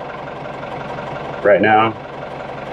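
A Perkins 4-108 marine diesel engine runs steadily in the background, a low rumbling drone that stays under a short burst of speech.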